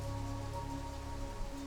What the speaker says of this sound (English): Listen to the gentle patter of raindrops on the roof